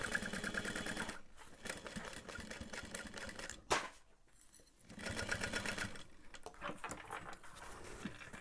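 A sewing machine runs close by in steady bursts while basting pieces of an Emma backpack, with a brief thump and a quiet pause in the middle before stitching resumes.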